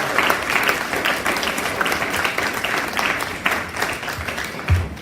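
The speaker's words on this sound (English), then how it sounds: "please join me in giving a big round of applause" Audience applause fills the room at a community talk event, a steady dense wash of many hands clapping throughout at moderate loudness, with no speech over it.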